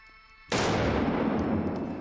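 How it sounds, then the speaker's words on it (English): A single loud gunshot from a fast-drawn revolver cracks out abruptly after a quiet moment of low background tones, then decays with a rumbling echo. "I only heard 1 shot."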